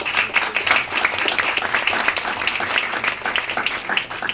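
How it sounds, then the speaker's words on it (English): An audience gives a panel a round of applause at the close of a session, with dense, lively clapping that holds steady for a few seconds. "Can I invite a round of applause?"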